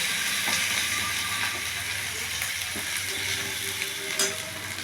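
Grated ginger frying in hot oil for a jackfruit curry, a continuous close sizzle and hiss with faint stirring scrapes and a small clink near the end.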